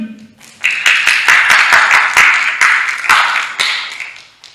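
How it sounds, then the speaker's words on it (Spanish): Applause from a small church gathering, a handful of distinct sharp claps that quickly merge into a brief burst of clapping, loud and close, then tapering off toward the end. "Démosle un aplauso al Señor"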